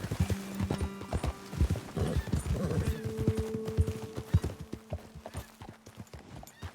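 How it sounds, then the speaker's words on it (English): Steady clip-clop of horse hooves walking nearby in the video game Red Dead Redemption 2, with a whinny and some low background tones, moderately quiet throughout. "Best leave the horses back a bit."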